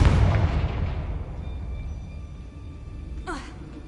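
A Confringo explosive spell goes off in Hogwarts Legacy with a loud blast at the start, its rumble decaying over a few seconds before a brief magical whoosh near the end.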